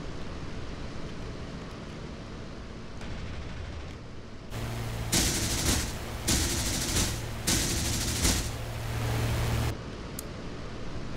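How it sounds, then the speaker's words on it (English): Sustained bursts of .50 caliber machine gun fire from a P-51D Mustang in DCS World form several loud, dense, roaring volleys over about five seconds, set against a steady propeller engine drone. "for 50 cals, eh, the sound's a bit underwhelming"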